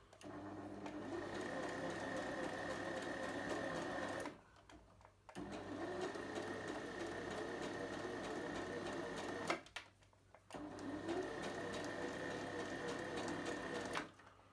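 Sewing machine stitching slowly with the needle starting in the highest position while making reusable heat and cool packs, a steady mechanical whirr running in three long bursts separated by short pauses.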